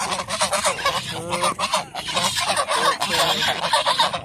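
Domestic geese at a rural waterside in Kishoreganj honk continuously in a dense overlapping chorus, loud and close, with no talk.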